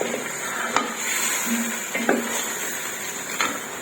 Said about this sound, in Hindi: चिकन में हम इन सारी चीजों को अच्छी तरह से भून लेंगे।